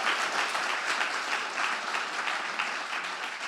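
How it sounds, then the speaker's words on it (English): An audience gives a steady round of applause at a member opening conversation, a continuous, moderately distant patter of many hands that holds even throughout without any talk. "I think he deserves an applause for that."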